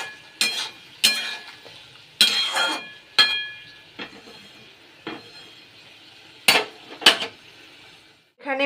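Green peas being stirred in a pan: a series of loud, sharp metal clanks and scrapes of a spoon against the pan, spaced irregularly, each with a short ring, and only a faint sizzle underneath.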